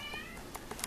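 A cat meows softly a few times, short mews close by over a faint steady background hum.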